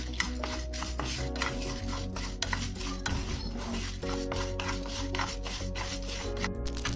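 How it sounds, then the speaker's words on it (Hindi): Masala spices and mustard seeds dry-roasting in a pan on a gas flame, with steady scraping and rubbing of a spatula against the pan and a faint crackle. It is continuous, close and alone, with music faintly underneath. "तो चलिए इसे अच्छे से सेक लेते हैं मसाला को।"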